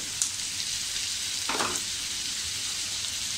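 Onion frying in hot oil for a home-style paneer masala, browning toward golden, gives a steady close hiss with one brief louder scrape of stirring midway.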